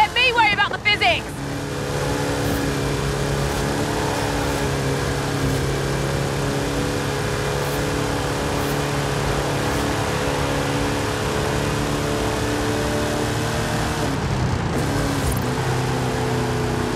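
A race car engine in Forza Horizon 5 holds a loud, steady high-revving drone at near-constant pitch, after a short burst of shifting revs at the start and a brief change near the end.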